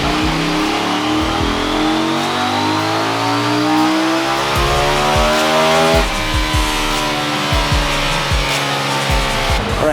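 A KTM Duke 790 motorcycle engine with a K&N air filter revs on a dyno, climbing steadily through the gears as a loud, continuous roar with brief dips at each shift.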